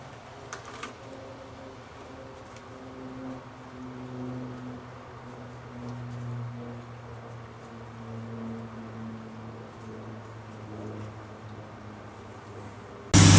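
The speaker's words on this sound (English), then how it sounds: "Okay, we have a respectable idle now." A 1986 Cadillac Cimarron engine idles after a tune-up, giving a steady low hum with faint harmonic tones that holds evenly for over thirteen seconds, with a brief clunk near the start and a louder bump at the very end.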